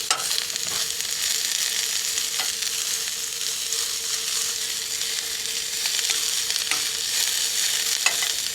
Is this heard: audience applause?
no